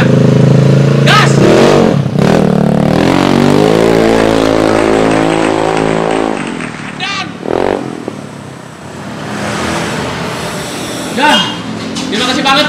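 A Vespa Matic scooter fitted with a racing exhaust revs loudly and close, its engine note rising and holding in a sustained roar, then easing back, with voices talking over the later part.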